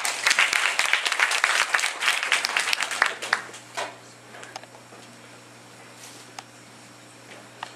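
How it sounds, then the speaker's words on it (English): A crowd at a speech night claps for a team, dense applause for about three seconds that quickly thins to a few scattered claps over a low steady hum. "Let's give them a big applause."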